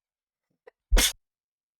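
A single sharp human sneeze, close and loud, preceded by a tiny faint click, then quiet.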